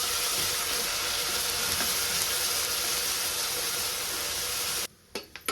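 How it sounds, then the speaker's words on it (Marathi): Masala paste frying in hot oil for a vajdi dish gives a loud, steady, close sizzle and hiss throughout, then cuts off abruptly into a few faint clatters and stirs, with no talking. "सगळं वाटण मी काढून घेतलेलं आपल्याला चांगलं तेलात तळून घ्यायचं"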